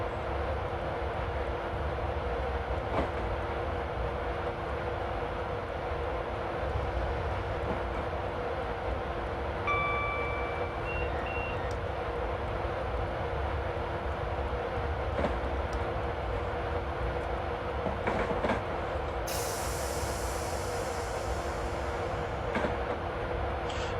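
Steady rumbling drone of an Intercity Class 91 electric train accelerating along the West Coast Main Line in Train Simulator 2016, continuous and even, with brief tonal beeps and a late hissing burst.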